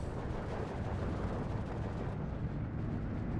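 Bombs from PE bombers crash down in the Steel Division 2 war game, a dense continuous rumbling roar of heavy blasts with no separate distinct impacts, loud and sustained through the whole stretch with no talking.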